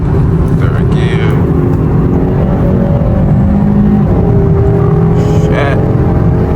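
A 2022 Hyundai Sonata N Line Night Edition accelerating hard in sport mode in third gear, a loud, steady, close engine roar with rising tones and tire or wind noise throughout.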